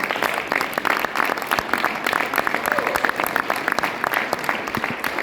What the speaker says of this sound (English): We must really give RIWAY a big round of applause.